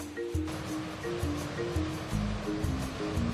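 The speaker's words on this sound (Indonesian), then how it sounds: "Tinggi ombak di sini 6 sampai 8 meter." Ocean surf breaking at Lakey Beach, a surf spot in Dompu, West Nusa Tenggara known for six-to-eight-metre waves, heard as a steady, loud wash of water with recurring low rumbling surges.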